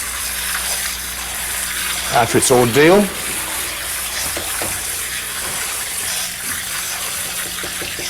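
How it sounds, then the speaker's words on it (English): Cold water sprays from a kitchen tap over freshly cooked vegetables in a colander in a sink, a close steady rushing hiss with a louder gush midway, while someone talks. "Let's spray it with some cold water to refresh it"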